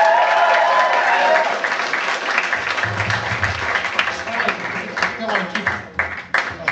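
An audience at a live variety show breaks into loud, sustained applause with cheering, the clapping thinning into scattered claps toward the end as voices carry underneath.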